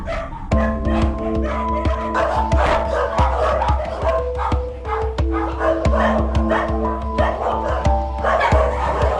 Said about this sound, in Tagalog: mga pitbull ni Nanay Terry, meron siyang 3 pitbull dito na medyo matapang.